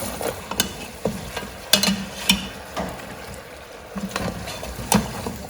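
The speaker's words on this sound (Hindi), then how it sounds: "ये देखिए भूनते जाए।" Beef trotters being stir-fried in a pot, with irregular scraping and clanking strokes of a spoon against the metal over a low sizzling hiss, close by and with no talking.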